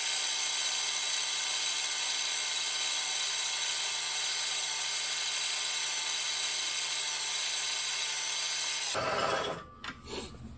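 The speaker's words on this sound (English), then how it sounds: "now we'll just chase that hole with the twist drill to full depth" A power drill whines steadily and loudly while a twist drill bores a hole in wrought iron, then stops abruptly near the end, leaving a few quiet clatters.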